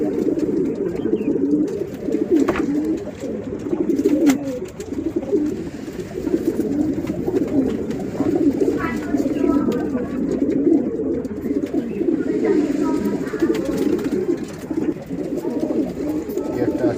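Pigeons coo steadily at a pigeon sale, a dense, continuous low murmur of many birds throughout, with occasional sharper sounds.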